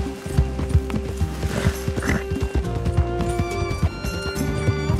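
Horse hooves clip-clopping in Red Dead Redemption 2 as the horse is ridden, close and rhythmic with a brief whinny mixed in over a bed of background game sound.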